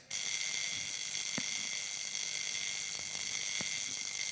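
A Zenith El Primero watch movement beating at 36,000 vibrations per hour ticks quietly against a steady electronic hiss, with only a few sharp clicks standing out.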